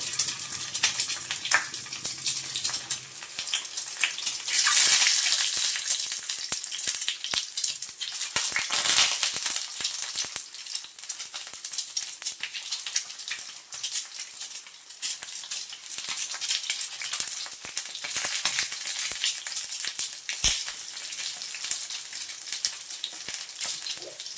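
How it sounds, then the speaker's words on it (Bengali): Eggs dropped one by one into hot oil on a high flame, a loud, steady sizzle and crackle that runs continuously with occasional spatters and faint utensil clinks, no voices over it. "তেলটা গরম হয়ে গেছে এখন আমি ডিমগুলো একে একে তার মধ্যে দিয়ে দিচ্ছি"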